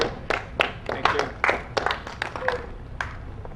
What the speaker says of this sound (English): You can continue to applause